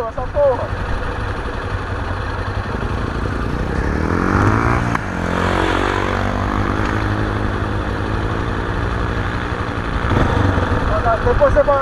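A Yamaha Ténéré XTZ motorcycle revs and accelerates through loose sand, the engine rising and falling loudly and close, with rider voices talking over it.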